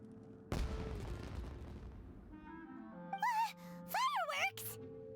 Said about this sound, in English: Was that an explosion? It sounded like fireworks.